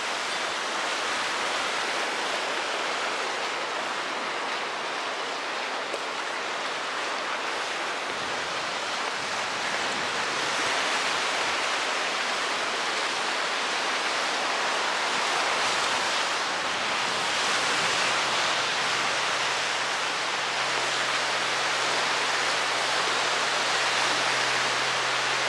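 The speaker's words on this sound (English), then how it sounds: "waves." Waves on Lake Michigan break steadily along the sand at Ardmore and Hollywood Beach in Chicago. The surf makes a continuous, loud wash with no talk over it.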